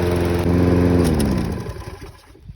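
A lawn mower that had been stalling once hot runs again after repair, a loud steady engine drone close by that winds down and sputters to a stop within seconds.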